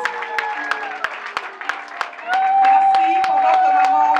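Audience at a certificate-award ceremony for a capacity-building workshop applauds, loud crowd clapping with scattered sharp claps, joined midway by a sustained steady tone and rising overall level.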